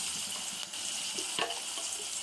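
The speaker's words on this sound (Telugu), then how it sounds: "ఇది కొంచెం కలర్ చేంజ్ అయ్యే వరకు ఫ్రై చేసుకోవాలి" Chopped onions fry in a pan for a spinach and tomato curry, making a continuous close hiss with a few brief clinks and stirring noises.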